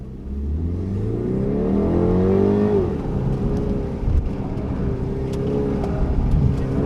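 A Mini Countryman S accelerating hard through a slalom course, its engine droning and rising loudly with tire noise underneath, continuous throughout with a brief surge midway.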